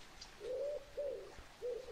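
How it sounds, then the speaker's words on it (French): Birds in mountain trees call softly in the distance: three low, rounded dove-like coos in a slow, evenly spaced series over quiet background air. "Sur ces arbres, les oiseaux chantent gaiement."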